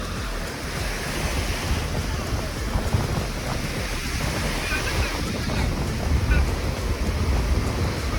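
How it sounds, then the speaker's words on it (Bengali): Sea waves surge and crash at high tide on Mandarmani beach during the monsoon, a continuous loud roar of surf mixed with gusty wind buffeting the microphone. "দারুণ ঢেউ, কিন্তু বর্ষার সময় তো ওই জন্য জলটাও একটু বেশি আছে"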